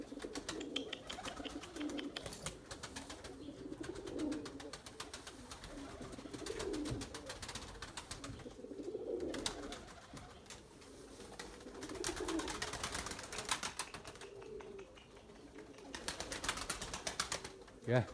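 Erzurum white pigeons cooing in soft low phrases, fairly faint and intermittent, under a man's speech with outdoor noise around.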